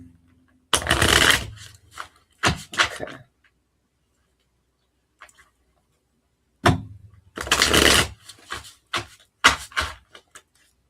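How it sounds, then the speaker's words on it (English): Two bursts of cards being shuffled, each a rapid riffle followed by a few quick taps and slaps, with a quiet pause between them. "Do a couple of shuffles."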